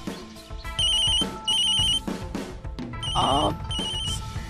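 A telephone rings in short repeated bursts of bright electronic trills in an indoor domestic scene, with voices and movement around it.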